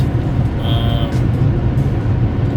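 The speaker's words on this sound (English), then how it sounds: "compare what a normal car sounds like versus a car with a cold air intake on it" A 2000 Honda Accord engine fitted with a cold air intake, running with a steady low rumble and a brief mid-pitched whine, heard close and continuous.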